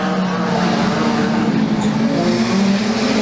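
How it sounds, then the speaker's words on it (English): Production sedan race car with a failing engine running on about three cylinders, a loud, rough, continuous drone heard close up on track, with no talk over it. "Oh, it's running on about 3 cylinders as well. Oh boy, that engine's gone big time."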